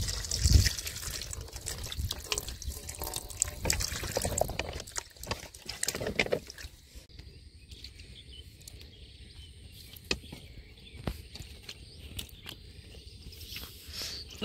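Water splashes and trickles while freshly caught canal fish are washed after cutting in a village setting, busy and close at first, then settling into softer intermittent drips and dribbles.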